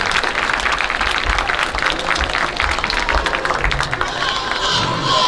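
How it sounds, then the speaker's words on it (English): Audience applause at a junior livestock show's afternoon hog class, Bailey County 2024, honoring young exhibitors: loud, steady crowd clapping fills the whole stretch, with a dense wash of hands and some background crowd noise. "let's give all these kiddos that showed a hog today a great round of applause"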